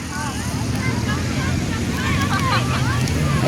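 Wind buffeting the microphone at a sandy beach, with a low rumble of waves underneath, while people talk throughout.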